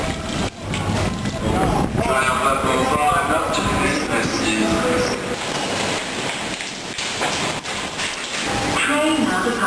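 Steady rain pours down at a busy city train station, a continuous loud hiss of drops on surfaces while people talk and move around nearby.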